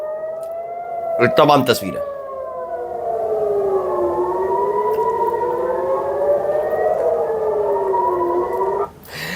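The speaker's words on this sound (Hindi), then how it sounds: "सायरन बजता रहा," An air raid siren in Jerusalem during rocket attacks from Yemen wails in slow rising and falling sweeps, steady and fairly loud, after someone briefly speaks at the start.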